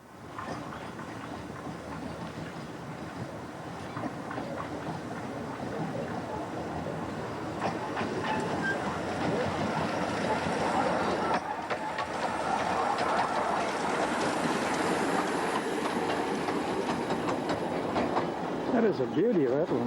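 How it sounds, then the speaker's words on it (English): The Northern Rock steam locomotive on a British steam railway climbs uphill, giving off a continuous, steady rumble and clatter of rolling wagons that builds slightly and holds for the whole stretch. "On the downbound trip, the other locomotive was offline, but we did catch the Northern Rock going uphill."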